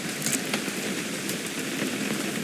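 Steady rain falling in the video game What Remains of Edith Finch, a constant even hiss of drops with no talk over it.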